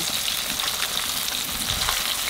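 Fish frying deep in plenty of hot oil in a pan, a continuous bright crackling sizzle at steady volume, close and uninterrupted, with no talking.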